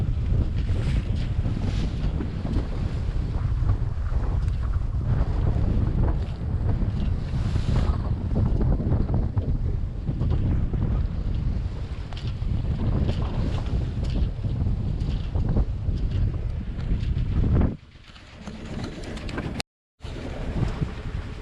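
A sailboat under headsail alone makes about 5 knots on a loch, with wind against tide raising a short chop, giving loud, steady roaring wind buffeting and rushing water close around the hull, which briefly drops away near the end.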